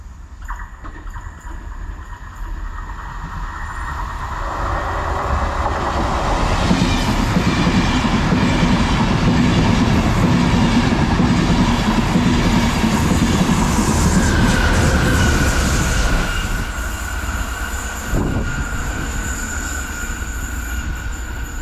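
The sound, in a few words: Enterprise passenger train passing by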